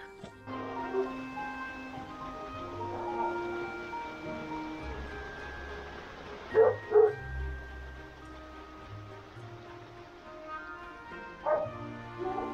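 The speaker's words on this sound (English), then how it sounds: "the neighbor's dogs are outside barking" Neighbor's dogs bark outside during rain in a desert garden, a few sharp yips and barks plus whimpering rising over a soft steady rain backdrop, moderately distant, with two louder bursts in the middle.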